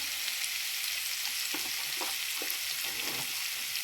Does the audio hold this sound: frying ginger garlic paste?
yes